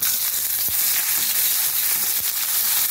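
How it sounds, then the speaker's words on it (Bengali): Onions fry in hot oil with whole dried red chillies, panch phoron and whole garam masala for egg peyaji, giving a loud, steady sizzle with a few soft knocks from stirring. "পেঁয়াজগুলো একটু ভাজা ভাজা হয়ে যাবে।"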